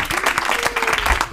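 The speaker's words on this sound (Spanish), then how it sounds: "Un aplauso para Guillermo" A studio audience claps in a short burst of applause, mixed with some voices and laughter during a comedy talk show.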